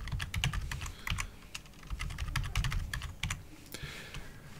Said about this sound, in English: type your password for root